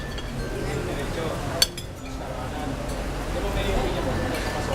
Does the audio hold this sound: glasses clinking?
yes